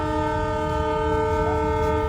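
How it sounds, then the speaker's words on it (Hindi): A train horn blares continuously and loudly as the train slows for a cow running along the track in India, a steady multi-tone blast held throughout with no break. "गाय को देखकर पहले तो ड्राइवर ने ट्रेन की स्पीड कम की और फिर हॉर्न बजाना शुरू कर दिया।"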